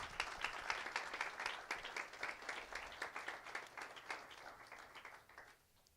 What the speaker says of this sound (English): Let's give my friend another round of applause.